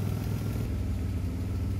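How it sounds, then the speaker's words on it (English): A Vauxhall Corsa D engine idles steadily nearby with a blowing exhaust, giving a continuous low rumble and chuffing pulse throughout, with no talking. "Exhaust is still blowing a little bit,"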